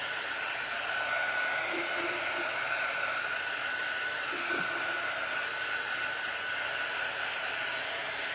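Hair dryer blowing steadily on fabric pumpkins, a loud continuous whooshing hiss with a faint high whine, unbroken throughout with no speech.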